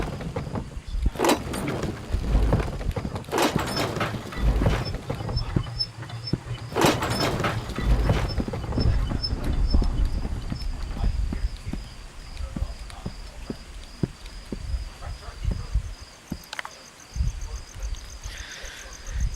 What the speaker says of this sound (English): What is this horse doing?